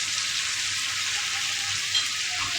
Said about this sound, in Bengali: এই যে আলু ভাজি করছি